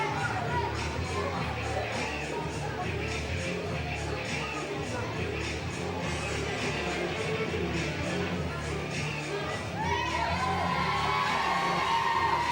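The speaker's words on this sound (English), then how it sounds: "the fans are getting behind him in a big way here tonight" A wrestling crowd roars and cheers steadily for a London-born wrestler named Benedict, with shouts and whoops rising out of the dense noise and a swell of louder cheering near the end.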